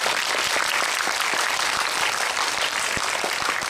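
Dense, steady applause from a large cinema audience at a film screening event, sustained and even throughout with no break.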